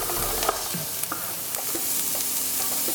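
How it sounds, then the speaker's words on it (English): Hard vegetables sizzle and brown in a pan for a sweet potato and kangaroo cottage pie, with a spoon stirring and scraping in several short knocks over the steady hiss. "Just going to brown them up a little bit."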